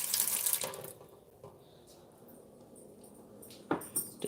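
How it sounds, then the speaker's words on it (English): Water drawn from a home well pours and splashes near at hand, a bright rushing stream at the start that cuts off, followed by quieter trickles and a brief final splash. "I have a well, so I can just take this water."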